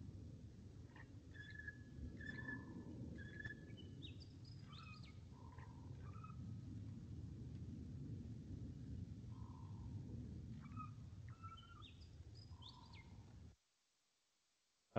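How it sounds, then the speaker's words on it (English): A regent honeyeater, a wild Australian songbird, sings a song copied from the spiny-cheeked honeyeater: faint, repeated clear whistled and slurred notes in short phrases over a low rumbling background hum, ending in abrupt silence. "we listen to this bird up here that had learned to sing like a spiny-cheeked honeyeater."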